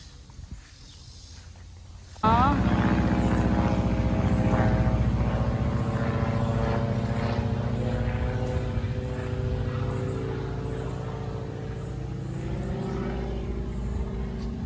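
A propeller airplane passes over a suburban yard in the USA, its engine drone rising sharply after a quiet start and then holding loud and steady overhead for the rest of the stretch, with no voices.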